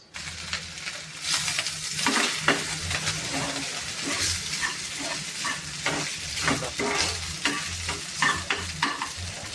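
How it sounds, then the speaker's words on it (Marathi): Cooked rice frying hard in a pan with garlic, a steady close sizzle broken by repeated scraping stirs and light metallic clinks of a spatula against the pan. "आपल्या भाताला कडक फ्राय करायचं"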